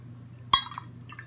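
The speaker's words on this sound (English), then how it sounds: "Let me clear off my water brush" A water brush is rinsed in a glass water jar during watercolor painting: one sharp, bright clink against the glass, followed by a few soft, quiet liquid splashes.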